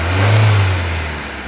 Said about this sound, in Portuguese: Quando eu acelero o motor,